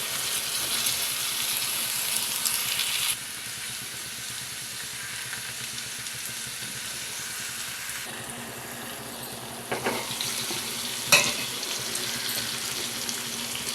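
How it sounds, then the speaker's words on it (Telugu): Small cleaned fish sizzle in a pan of hot oil, making a steady hiss with a rushing, watery texture. The hiss changes level partway through, and one sharp clink stands out. "ఇప్పుడు క్లీన్ చేసి ఉంచిన ఈ చిన్ని చేపలను వేసేద్దాం."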